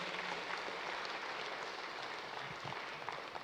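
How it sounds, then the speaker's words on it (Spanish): Church congregation applauding during a Saturday service, a dense, steady wash of clapping that holds at an even level throughout with no voices standing out. "Dale un fuerte aplauso al Señor."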